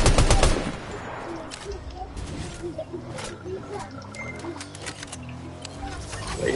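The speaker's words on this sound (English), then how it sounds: "I heard someone over here fighting, shooting." Gunfire in a Fortnite match: a loud burst at the start, then scattered distant shots and rapid fire continuing faintly under talking.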